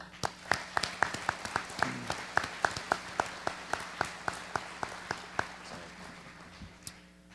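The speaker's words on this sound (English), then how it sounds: "let's give a round of applause to the fire department and the EMS workers" Applause at a community address for fire department and EMS workers comes as a steady run of crisp, evenly spaced claps that thin out and fade toward the end.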